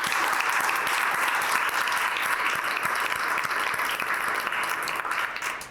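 An audience claps for a panel at an innovation showcase, a dense, steady round of applause that holds at full strength for several seconds before thinning slightly at the end.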